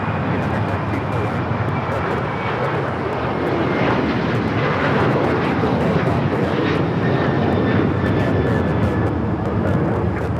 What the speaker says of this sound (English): This is United Airlines 1571 taking off to Houston Intercontinental on the 737-900ER.